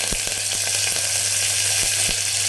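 Onion, tomato, curry leaves and green chillies sauté in hot oil, giving a loud, dense, hissing sizzle that holds steady throughout, with a few faint stirring taps and no voices.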